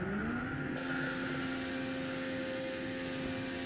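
A BMW X5 engine in Euro Truck Simulator 2 hums with a steady, continuous drone and a high whine throughout, revving slightly at the start, with no talk over it.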